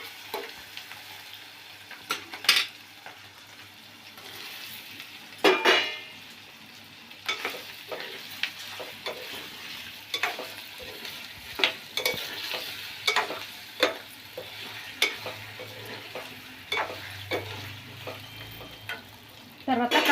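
Taro root (chamagadda) sizzling in oil in a pan with turmeric, with a steady frying hiss broken by sharp scraping clicks of a spoon stirring against the pan at irregular intervals.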